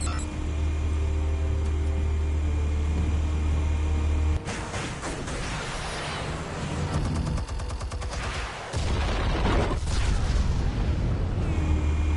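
Explosives go off in the video game Batman: The Telltale Series, a loud deep boom cutting through a droning background, followed by crackling debris and rumbling blasts with a brief dip before the din resumes.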